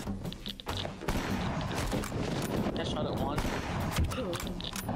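Gunfire crackles through a shooter video game in dense, overlapping bursts of shots, loud and continuous, while players talk over the action.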